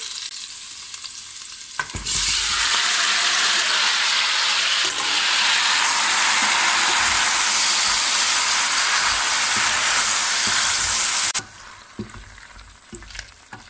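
Tomatoes frying with peppers in a pan for ratatouille give a loud, steady sizzle that starts abruptly, holds evenly for several seconds with faint stirring scrapes, then cuts off sharply.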